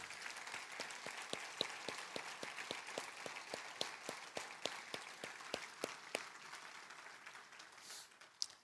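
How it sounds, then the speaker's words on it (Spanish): A church congregation claps for the Lord at an Easter Sunday service, keeping a steady, even rhythm in unison. The clapping is fairly quiet and distant and goes on with no talking. "Dale un aplauso fuerte al Señor."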